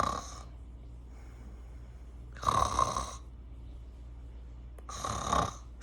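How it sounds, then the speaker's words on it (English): Recorded snoring plays from the Motion Pillow app's test mode, two loud rasping snores in a slow rhythm separated by quiet breathing gaps. "So it picks up your snoring."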